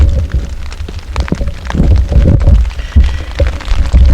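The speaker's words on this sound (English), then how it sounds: "I don't know with this rain." Steady rain falls on a tarp shelter at a forest campsite, a dense, close patter with irregular heavier drops and thumps throughout, with no voices.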